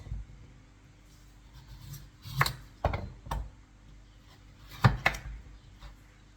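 A knife slicing carrots thinly on a cutting board: a few quick pairs of crisp taps and scrapes, close and fairly quiet, separated by short pauses.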